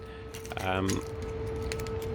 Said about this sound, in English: engine key and also two locker keys